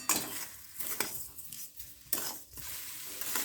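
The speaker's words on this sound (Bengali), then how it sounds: "একটু নেড়ে নিচ্ছি" Sweet palm-fruit filling with sugar is stirred in a pan over a medium flame, giving soft scraping strokes at an uneven rhythm with a faint sizzle between them, close and fairly quiet.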